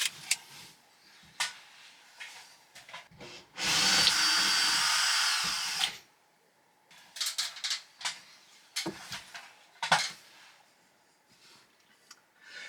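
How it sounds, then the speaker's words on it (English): A loud power drill whirs continuously for about two seconds, drilling a hole in a ceiling, surrounded by scattered knocks, scrapes and handling noises before and after. "where I want to be drilling the hole"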